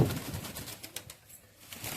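Flying pigeons, including Madrasi and high flyer breeds, in a large loft in Panchagaon, Akola district, Maharashtra, give soft, close coos amid a busy, rustling background, with faint flutters and no talking.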